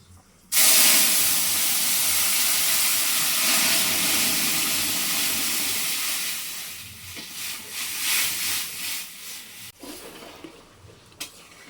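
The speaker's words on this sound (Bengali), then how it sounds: "এই দেখো টকবক করে ফুটছে" Dal boiling hard in a kadai after a panch phoron tempering gives a loud, steady hiss of bubbling and steam that starts abruptly, then thins into a more uneven, fluttering simmer toward the end.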